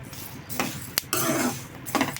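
Coriander seeds roasting in a pan, a few sharp clinks and scraping rattles as the seeds are stirred and shaken, close and fairly loud with no talking.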